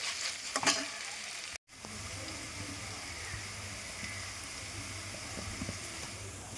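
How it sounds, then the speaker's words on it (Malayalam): Onions with salt and curry leaves sautéing in a pan, a steady soft sizzle with occasional stirring scrapes, a brief cut near the start, then a continuous close frying hiss with no talk. "ഇതിലേക്ക് ഇനി അല്പം ഉപ്പ്, കുറച്ച് കറിവേപ്പില ഇത്രയും കൂടെ ചേർത്ത് നമ്മളൊന്ന് വഴറ്റിയെടുക്കാം"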